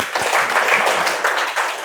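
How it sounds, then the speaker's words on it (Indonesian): Students in a high school physics classroom clap for a classmate, a short burst of scattered hand claps from a small group lasting under two seconds. "Berikan tepuk tangan sama Dimas dulu"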